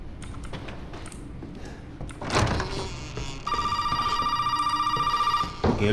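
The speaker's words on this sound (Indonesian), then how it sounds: "Oke, Lukas telepon." Telephone ringing in the Resident Evil survival horror video game, a repeating electronic ring that starts partway through and pulses steadily over background game ambience and a thump, with no talking.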